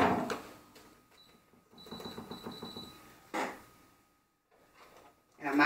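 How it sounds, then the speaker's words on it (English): A sewing machine stitches a 5mm seam on high-waisted shorts in a short, rapid run of mechanical pulses, set between louder handling clunks and quiet gaps. "I'm going to go ahead and do a 5mm seam on this."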